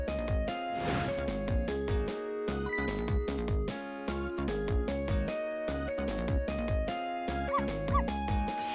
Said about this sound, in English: Yes, you guessed it, I barked.